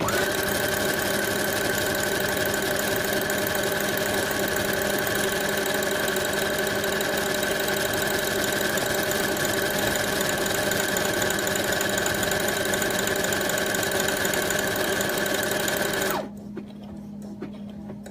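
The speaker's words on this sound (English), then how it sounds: "I'm going to sew right underneath the first one." Sewing machine stitching a buttonhole with a one-step buttonhole foot, running in a steady, loud, continuous whir and rapid needle rattle that stops abruptly near the end, leaving a faint hum.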